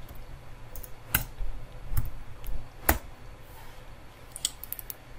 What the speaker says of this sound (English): I'm going to type front in.